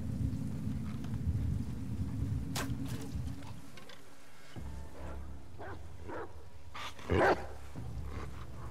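A dog barks in The Last of Us Part 2 over a bed of rain and low thunder, a few short barks in the second half with one sharp, louder bark near the end, with no talking.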